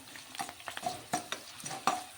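Light sizzling of garlic frying in oil in a pan, with scattered stirring clicks and scrapes, close and fairly quiet, no voices.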